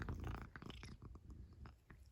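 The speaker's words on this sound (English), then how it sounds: "Do you hear this kitty?" A house cat purrs close up in a steady, low rumbling stream, faint and continuous, with slight rhythmic pulsing and soft background noise.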